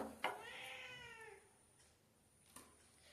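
A house cat gives one clear, drawn-out meow in a Konkan home kitchen while modak sweets are being made. It is followed by a few faint knocks and near-silence.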